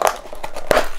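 Scissors snip through plastic packaging ties on a boxed Transformers Legacy Evolution Metalhawk figure, giving a few sharp crinkling cuts up close, the loudest near the end.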